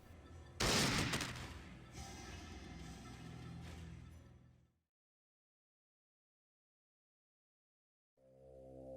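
Gunfire erupts in the video game Fallout: a loud burst of shots followed by a few seconds of fading noise, then silence, and a tonal game sound rising at the end.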